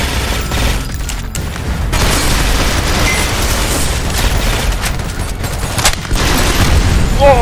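Mortar blasts and heavy gunfire in the top-down shooter Synthetik, a dense, loud barrage of booms and rapid shots running throughout, with voices talking over the combat.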